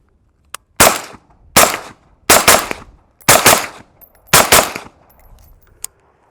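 Five loud, close, evenly spaced shots from an Adams Arms 8.5-inch piston upper fitted with a SureFire 556 suppressor, each a sharp crack that decays over several tenths of a second, with faint clicks between shots.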